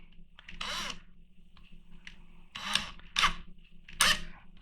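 Power drill fitted with a Harbor Freight bit, boring through material during a wheel swap, giving several loud bursts of high grinding whine separated by short pauses, close to the microphone.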